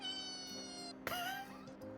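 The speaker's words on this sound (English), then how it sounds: "that cat just screeching" A cat screeches and yowls as a sound-effect button is played during a livestream, loud and alone, with a sharp rising wail in the second half.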